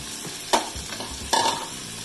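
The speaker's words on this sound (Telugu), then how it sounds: "ఇదిగోండి మెంతికూర కూడా ఫ్రై అవుతుంది." Fenugreek leaves and potatoes frying for aloo methi curry, with a soft sizzle under two sharp scraping stirs of a spatula across the pan.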